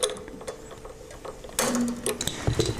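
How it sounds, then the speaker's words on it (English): A string winder turns a guitar tuning machine to unwind a string, giving a close ratcheting, clicking whir that turns louder and busier halfway through. "I'm just loosening the string, and you can see it starting to unwind from the machine head."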